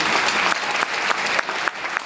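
An audience at a Safe Shop programme in Ravindra Bhawan, Patna, gives a loud round of applause for Avinash Kumar, a brief dense burst of many hands clapping.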